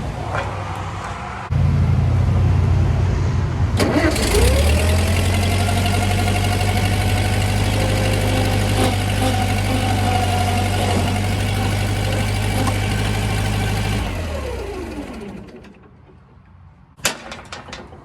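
A skid loader engine cranks, then catches and runs steadily at a loud, constant idle with a rising whine, before winding down and cutting off near the end, followed by a couple of sharp clanks.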